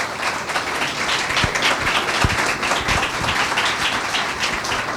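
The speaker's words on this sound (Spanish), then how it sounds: "Con un aplauso le pedimos que por favor pase el podio" An audience at a talk by a former president gives sustained, close applause, a thick, even patter of many hands with a few sharper claps standing out.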